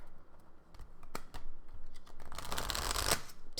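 Thick-cardstock tarot cards from an Animal Totem deck being shuffled close up, a quiet run of soft riffling and flicking that builds to a denser burst of shuffling near the end.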